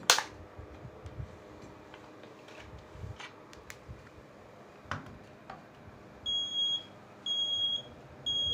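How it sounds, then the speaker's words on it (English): The audible alarm of a TSI 9306 six-channel air particle counter sounds in loud, sharp repeated electronic beeps near the end, following quiet handling clicks and taps. "Machine itself have a highest audible alarm."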